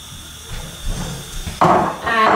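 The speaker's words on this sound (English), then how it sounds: "So we're going to add the onions to the pan." Onions drop into a hot pan for a bolognese sauce, with a few soft knocks and clatters before a sudden loud sizzling hiss that continues close by.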